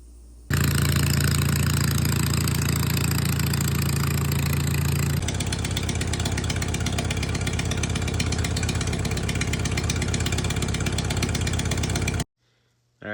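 Old Ford engine running after being pop-started, a loud, close, steady idle that shifts into a rougher, faster chugging about halfway through before cutting off.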